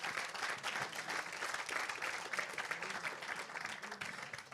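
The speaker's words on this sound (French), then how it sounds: "Et je pense qu'on peut les applaudir." An audience at an annual gathering claps for the volunteers, producing a fairly faint but steady patter of applause that carries evenly throughout.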